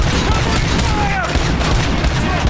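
Sustained gunfire from the video game RoboCop: Rogue City: a dense, loud, continuous volley of shots with booming impacts, a voice partly audible beneath it.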